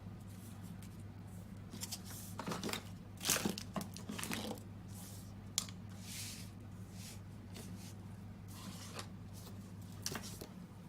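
Scissors trim the edges of a handmade floral greeting card, giving a few short bursts of crisp snipping and paper crinkle spread across the span, fairly close and quiet, with no talking over them.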